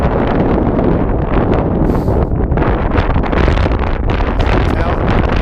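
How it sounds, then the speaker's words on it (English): Strong mountain wind gusts down the slopes along a Continental Divide Trail hike between Lincoln and Benchmark, a loud, constant roaring buffet against the microphone throughout. "That wind blow"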